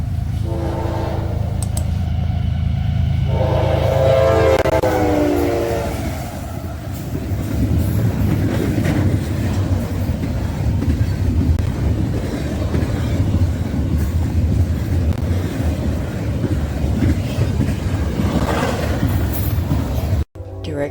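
CSX freight train I009 passing with locomotive CSX 911 leading, a unit painted in first responders colors: a loud horn blast rings out early, then a steady, heavy rumble of wheels and cars rolling past close by.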